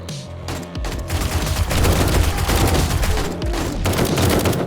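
Sustained AK rifle gunfire in the survival video game 7 Days to Die, dense overlapping shots forming a loud continuous fusillade with a rumbling low end, no talk over it.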